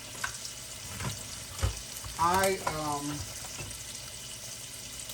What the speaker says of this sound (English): I'm in the kitchen frying bacon.